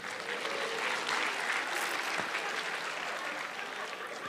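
A comedy-show crowd applauds for a comedian, loud sustained clapping filling the room, with a few cheers mixed in.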